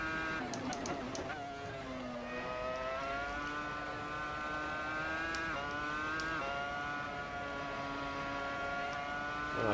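A Williams FW26 Formula 1 car lapping in Assetto Corsa gives a high, whining engine note that climbs and drops through gear changes, loud and continuous with a brief burst of upshifts early on.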